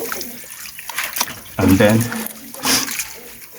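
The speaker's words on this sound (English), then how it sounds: "So we'll add water to this one too." Water poured from a container over processed oil beans (ugba) in a pot, a splashing burst in the middle under a person talking nearby.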